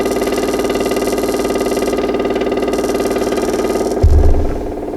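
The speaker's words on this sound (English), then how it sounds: "We're going to hit it and turn it on and see if it pumps fuel into the filter here." A 6V electric fuel pump on a 1937 Ford V8-60 runs with a steady, loud mechanical buzz and rapid rattling pulses, followed by a brief low thump near the end.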